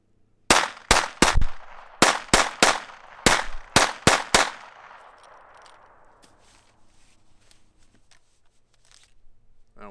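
Rapid bursts of gunfire from a Ruger LCP II .22LR pistol with Remington Thunderbolt ammo, about a dozen sharp, close shots in quick uneven succession, then ringing decay and quiet handling noise.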